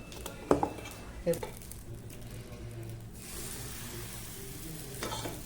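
Rava dosa batter spread on a hot griddle over low gas flame, a soft, even sizzle with a couple of sharp utensil clinks near the start, faint background voice.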